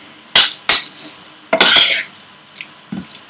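Metal spoon scraping and clinking against a pan while prawn chilli fry is stirred with a pinch of Kashmiri chili powder, a few sharp close knocks in quick bursts with short gaps between.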